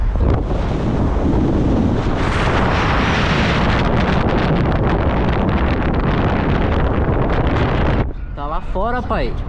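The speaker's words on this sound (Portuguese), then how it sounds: "Tá lá fora, pai. Altas ondas ainda. Tem altas ondas." Ocean waves and surf at Praia da Fazenda in Ubatuba, a loud continuous roar of breaking water mixed with heavy wind buffeting the microphone, with a voice briefly heard at the end.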